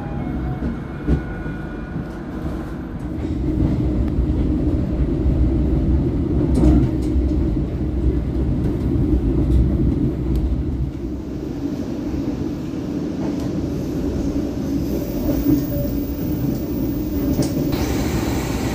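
KA Kutojaya train running shortly after departing Cipende station, heard from inside the carriage as a steady low rumble and wheel drone with occasional knocks, continuous and fairly loud, no talking.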